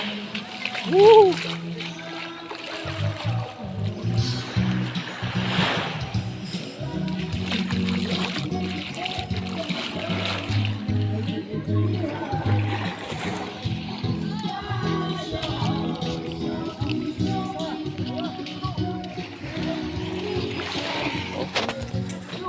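Strong sea waves splash and churn along a beach where a boat is being hauled ashore, a loud ongoing wash with people shouting and talking over it.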